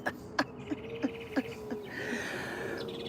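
Small birds chirp faintly in the background of an indoor live stream, with scattered short calls and a soft continuous twitter later on, no talking.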